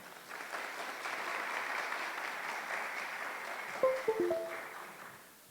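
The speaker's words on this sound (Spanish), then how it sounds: "Recibámoslo con un fuerte aplauso" An audience at a heritage gathering gives a speaker a welcoming round of applause, soft and somewhat distant, swelling then fading, with a brief burst of nearby handling or tapping noises near the end.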